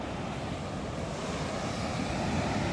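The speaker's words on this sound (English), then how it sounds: "There's a few waves today." Steady, loud roar of ocean waves breaking on a beach, a continuous wash of surf with wind buffeting the microphone throughout.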